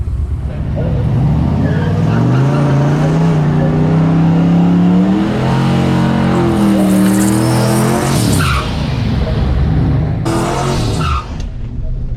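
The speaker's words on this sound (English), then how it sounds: "This turbo pickup truck, and I don't know anything about it, never seen it run before, but it sounds pretty beefy." A turbocharged pickup truck makes a drag racing pass, its engine roaring loud and close with rising, shifting pitch and tire noise, then cutting off sharply near the end.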